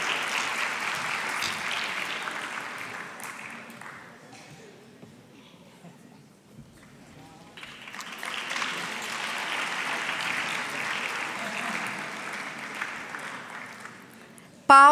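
Applause from a crowd, fading to a quieter lull midway before swelling again into sustained clapping.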